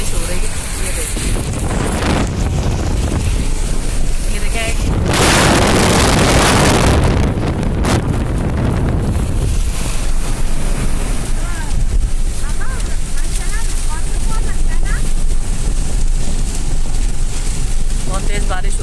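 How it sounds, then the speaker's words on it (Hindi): Heavy rain pours during a thunderstorm in Makkah, heard from inside a moving vehicle as a loud, constant wash of noise with surges of splashing, while a person talks over it. "ये देखिए कितनी तेज़ बारिश हो रही है।"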